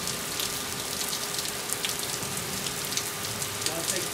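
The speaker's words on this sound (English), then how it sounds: "finally got some rain." Steady rain falls and patters on surfaces outdoors, a continuous dense hiss with scattered individual drop taps close by, even in loudness throughout with no voices.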